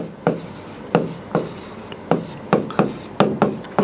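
Chalk or marker strokes on a board form a rhythmic series of short scratchy taps and scrapes, close and crisp, about a dozen strokes in quick succession while a theorem is written.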